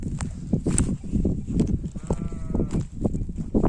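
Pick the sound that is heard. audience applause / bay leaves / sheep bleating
sheep bleating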